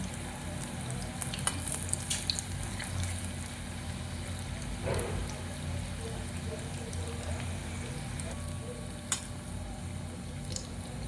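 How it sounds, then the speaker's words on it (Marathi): Bottle gourd kofta balls frying in oil in a kadhai over a low flame, a soft continuous sizzle with scattered small pops and crackles, close and fairly quiet throughout. "लो फ्लेमवर तळायचे आणि पटकन जळू पण शकतात।"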